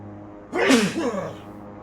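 A single loud sneeze bursts out close by over a quiet steady hum, sharp at first and trailing off after about a second.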